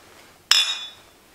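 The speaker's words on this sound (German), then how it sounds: "lass uns doch mal anstoßen" Glasses meet in a single bright clink during a Christmas toast, a sharp ringing tap that decays over about half a second against a quiet room.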